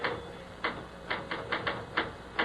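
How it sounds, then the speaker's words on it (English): Sharp clicking typewriter keystrokes tap out in an irregular rhythm, about eight distinct strikes over a low background hum, fairly close and moderately loud, in a 1975 radio drama. "will you knock it off with the typing and look at me"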